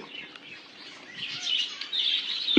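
A finch aviary on a breeding farm fills with a continuous mesh of thin high chirps and twitters from adult finches and their chicks, steady and moderately loud without any talk.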